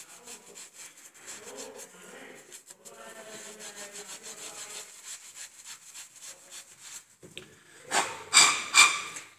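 Wire mesh scrubs the end of an 18 mm copper pipe ahead of soft soldering, a steady rasping rub of short repeated strokes that grows louder and harsher toward the end.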